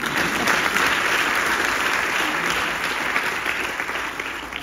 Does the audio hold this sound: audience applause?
yes